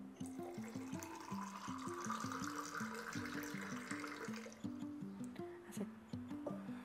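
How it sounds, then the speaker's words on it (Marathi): Cold water from a clay pot is poured into raw mango pulp, making a quiet, rhythmic series of gurgling glugs that continue for several seconds. "यानंतर थंडगार असं माठातलं पाणी घालून घेऊ"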